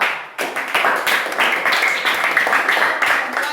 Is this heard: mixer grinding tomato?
no